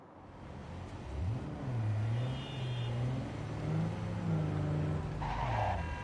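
A car in the video game Cyberpunk drives and skids, its engine droning and revving loudly throughout with long tire squeals sliding up and down in pitch, alone without talk.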